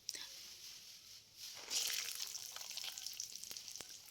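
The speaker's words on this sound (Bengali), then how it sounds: "তারপরে আমি কিচমিচ আর কাজুটা হালকা একটু ভেজে নিলাম" Raisins and cashews fry lightly in oil in a wok, a faint hiss that swells into a brighter sizzle partway through, with a couple of soft clicks.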